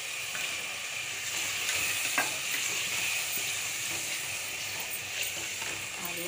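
Tomatoes and potatoes fry in a pot, giving a steady, close sizzle with scraping stirs and occasional clinks throughout, without voices.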